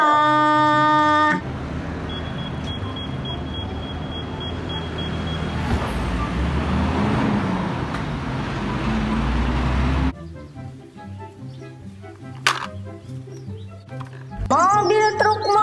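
A garbage truck's engine rumbles steadily and loudly, with a short run of high, evenly spaced beeps early on. Other vehicle sounds break in abruptly before and after it.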